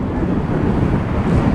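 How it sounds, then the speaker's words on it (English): Strong gusts of wind batter the microphone outdoors on a blustery day at a hotel site with metal fence panels, a loud continuous roaring rumble with no voices. "it's a windy day today."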